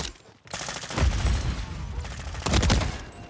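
Rapid automatic gunfire from a COR-45 firefight in Call of Duty, several dense bursts crackling close and loud with short gaps between them and no talking.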